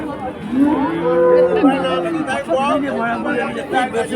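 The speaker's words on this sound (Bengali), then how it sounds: "দেখেন এই যে গরু এই এক ফ্রিজিয়ান" Friesian cattle at a village cattle market in Keshabpur, one close, drawn-out moo rising over the background while people chatter nearby.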